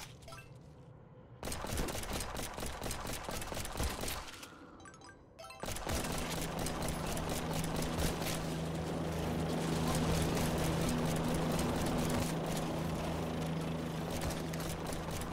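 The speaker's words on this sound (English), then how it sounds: "That chopper is absolutely fantastic." Helicopter rotor and engine noise from the zombie survival game Yet Another Zombie Survivor, a loud continuous whirring drone with a steady low hum, broken by brief gaps early on and mixed with clattering game effects.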